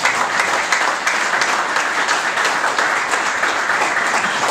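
Audience applause at a fire department firehouse dedication ceremony, a steady dense wash of many hands clapping that holds evenly throughout, fairly loud and close, with no talk over it.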